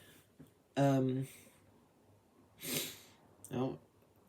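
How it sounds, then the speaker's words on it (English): A few quick sniffs and breathy intakes close to the microphone, spaced out over a few seconds, with faint vocal sounds. "I shouldn't do the sniff thing in the videos"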